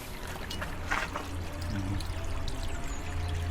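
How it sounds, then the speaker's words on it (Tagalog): Small waterfall of cold water in a stream, a steady rushing trickle and splash heard up close, continuous and moderately loud with no talking, on a day of a tour through Liechtenstein. "Merong maliit na falls dito. Water source."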